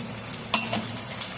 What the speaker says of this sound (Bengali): জিরে লঙ্কা বাটা দিয়ে দিলাম, দিয়ে আমি ভালো করে মশলাটাকে কষিয়ে নেব